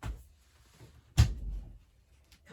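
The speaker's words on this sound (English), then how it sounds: "I think I better open the door before she scratches all the fresh paint off" A freshly painted door is opened to let a kitten in, giving one sharp nearby thud and clunk of the latch and door in a quiet room, with a faint knock before it.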